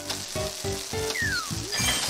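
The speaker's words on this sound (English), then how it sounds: "Stir fry the ingredients." Ingredients sizzle in a stir-fry in the Cooking Mama Cookstar video game, a steady frying hiss punctuated by rhythmic stirring clinks and a brief electronic game tone.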